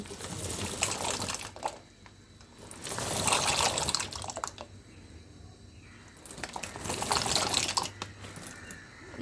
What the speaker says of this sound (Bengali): পানিটা ফুটে উঠছে, এখন আমি পাস্তাগুলো ঢেলে দিচ্ছি।